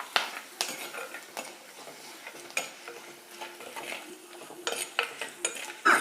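Dried red chillies and whole black peppercorns in a hot pan over a soft, faint sizzle, with intermittent clinks and scrapes of a spoon stirring against the metal.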